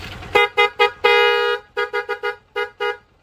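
Two horns on a vehicle with a dual-horn setup sound together in a series of short, loud, close honks, with one longer blast early and several quick toots after it.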